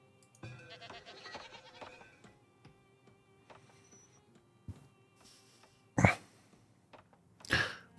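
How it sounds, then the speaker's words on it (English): Goats bleating in a farm village of the video game Farthest Frontier, two sharp loud bleats late on over sparse soft clicks and quiet game ambience. "But it should mean that we've got goats."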